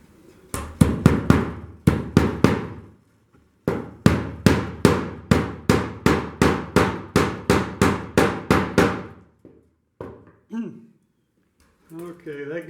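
Rapid, ringing hammer blows strike a nail while building light show props from steel wire, in two quick runs separated by a brief pause, loud and close, with a voice talking briefly at the end.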